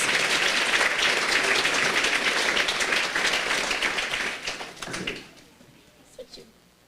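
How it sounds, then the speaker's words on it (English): Round of applause from a dinner audience at a farmer-neighbor dinner honoring a farm, a full steady burst of clapping that dies away after about five seconds into faint room noise. "let's give a round of applause for the McRae Farms."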